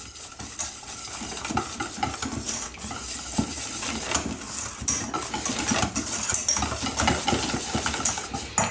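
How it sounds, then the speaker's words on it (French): Cake batter of vanilla sugar and melted butter being stirred in a bowl, continuous scraping and clinking of utensil against the dish, close and steady with no speech. "Et là, on mélange."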